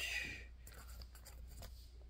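Scissors slice into a package, giving a faint, brief run of snips and crinkly rustles in a quiet room.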